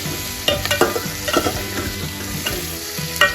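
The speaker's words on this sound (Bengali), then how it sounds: "এখানে খুব ভালো করে পেঁয়াজটাকে ভাজতে হবে একদম লাল করে দিলাম" Onions frying in a pan, a steady close sizzle broken by several scraping stirs of the spatula, with a faint tonal background underneath.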